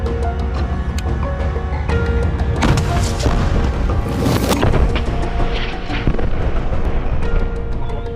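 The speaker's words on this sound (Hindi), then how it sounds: "अल कुद्स ब्रिगेड के लड़ाकों ने अल कासिम के साथ मिलकर इजराइल के एपीसी वाहन पर एक एंटी टैंक रॉकेट दाग दिया" An anti-tank rocket launched at an Israeli APC near a cemetery in eastern Rafah, with heavy booms and sharp blasts over a constant loud rumble, the strongest bursts clustered in the middle of the stretch and no voices.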